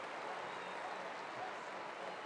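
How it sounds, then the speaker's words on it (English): Applause from a large, mostly Brazilian crowd in a Paralympic athletics stadium at Rio 2016, a steady distant wash of clapping that stays even and faint throughout. "she's getting fine applause from the largely Brazilian crowd"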